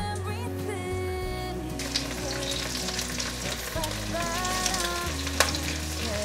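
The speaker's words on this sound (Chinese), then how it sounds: "把马铃薯一个一个放进来煎" Potatoes frying in a generous amount of oil in a pan, a steady loud sizzle and crackle running throughout with occasional sharper pops, no talking.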